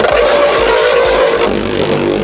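A Beyblade launched from an LRB launcher spins and scrapes across a Gatinko battle stadium, making a loud, close, continuous grinding rasp punctuated by a few low thuds.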